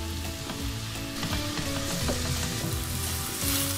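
Chicken fries in butter in a pan, giving a steady, close, dense sizzle that holds evenly throughout without any voices.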